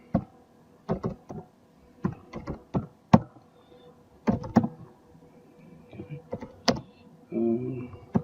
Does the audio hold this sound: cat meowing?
no